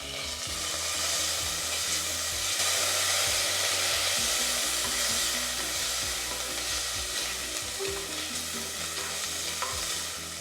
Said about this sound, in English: Add 1 teaspoon of ginger garlic paste. Saute till raw smell goes off.